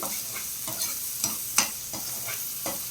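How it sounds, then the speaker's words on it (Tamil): Ginger garlic paste fries in hot oil with a continuous bright sizzle, broken by rhythmic scraping strokes of a spoon stirring it around the pan, close and clear with no talking. "இஞ்சி பூண்டு பேஸ்ட்டை வந்து அப்படியே எண்ணெயில் வந்து லைட்டாக ஃப்ரை பண்ணணும்"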